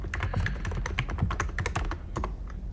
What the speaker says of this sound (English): To get started, just type in the location of your app,